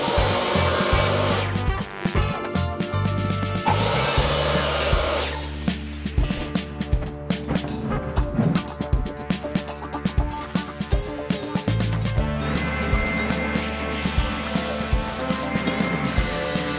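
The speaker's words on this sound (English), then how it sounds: "This angle here, I think my miter saw will be able to do that, so I can cut that." A miter saw cuts angled pieces of pallet wood for a small bug hotel, loud and steady with a howling motor and gritty blade bursts through the boards, repeated cuts running nearly continuously with brief dips between passes.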